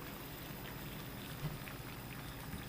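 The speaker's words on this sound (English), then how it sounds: "So 5 minutes, a rolling boil." Water at a rolling boil over a small alcohol stove, giving a faint, steady bubbling and seething hiss with soft pops throughout.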